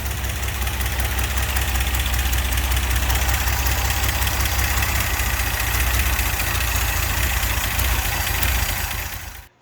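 A 1963 GMC K1000 4x4 truck engine idles without choke, a loud, steady low rumble with a fast even pulse, close up and continuous until it drops away at the end.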